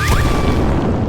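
A single loud, dense burst in a kitchen, filling the whole moment with a broad crashing roar that fades slightly, with no voices over it.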